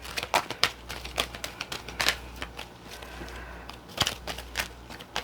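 Tarot cards shuffled by hand in a quiet room, giving a run of quick, crisp riffling snaps and flutters at close range, bursting irregularly over a faint steady hum with no talking.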